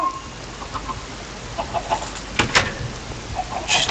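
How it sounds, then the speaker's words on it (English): Chickens in the video game Minecraft cluck repeatedly in short, uneven bursts, fairly close and clear, with a sharp click partway through and no talking. "Here's some really good chickens"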